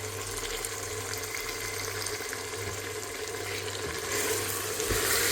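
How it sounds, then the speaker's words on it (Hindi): Black chickpeas frying in a pan with tomato paste, giving a steady broadband hiss and sizzle that grows louder near the end, with no talking. "तो इनको मैं अच्छी तरह भून रही हूँ।"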